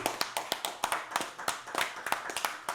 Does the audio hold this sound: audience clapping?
yes